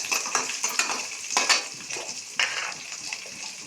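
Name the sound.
cumin seeds sputtering in hot oil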